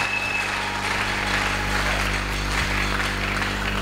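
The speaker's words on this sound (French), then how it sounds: "Nous acclamons très fort pour celui qui vient jamais." A church congregation applauds during a Sunday service, the clapping dense and sustained at an even level throughout, close and filling the room.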